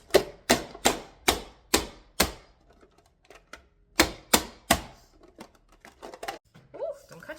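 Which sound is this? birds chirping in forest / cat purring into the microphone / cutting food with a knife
cutting food with a knife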